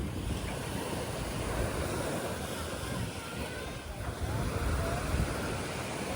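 Ocean surf rolls onto a Boracay beach in the Philippines during high tide with strong currents, a loud continuous wash of waves mixed with heavy wind buffeting the microphone.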